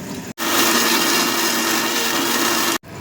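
An electric kitchen mixer grinds onions into a paste, a loud, steady high-speed whir that starts abruptly, runs for about two and a half seconds and cuts off sharply, with a brief burst of motor noise afterward.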